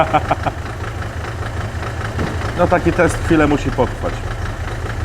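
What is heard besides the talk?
car engine idling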